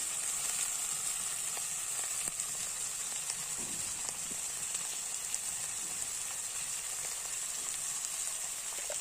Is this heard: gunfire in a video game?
no